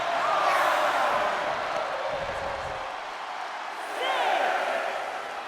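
Video game wrestling crowd in WWE 2K23 roaring and cheering throughout an arena match, a loud sustained wash of noise that swells again near the end, with whistles and whoops rising out of it.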